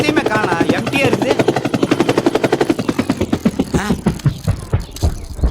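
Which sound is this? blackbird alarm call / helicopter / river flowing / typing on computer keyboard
helicopter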